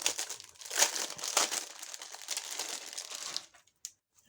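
Plastic packaging of a double-card and envelope set being opened, a close run of crinkling and crackling for about three seconds, then a couple of faint rustles.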